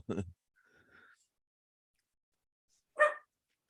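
Small dogs bark after a knock on a table, a couple of short sharp barks separated by a soft whine and a long silence, close and fairly loud.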